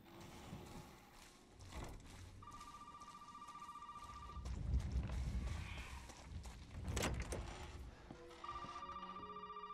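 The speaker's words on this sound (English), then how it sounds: "The phone was ringing." A telephone rings twice in a dark house in Resident Evil 7, each ring a thin electronic burst of a second or two, spaced well apart and fairly faint beneath creaking game ambience and mechanical clanks.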